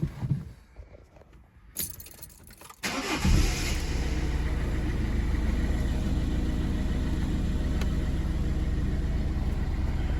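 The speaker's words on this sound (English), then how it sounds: "So we'll start the car." A few faint clicks and a brief jangle, then a Citroen C3 HDi diesel engine with a turbo overboost fault cranks and catches, settling into a steady, even idle that runs to the end.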